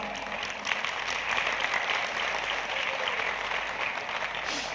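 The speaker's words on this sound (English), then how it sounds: "yes, you can clap for that" Audience clapping during a business talk, a steady moderate round of applause in a room, sustained throughout without a clear end.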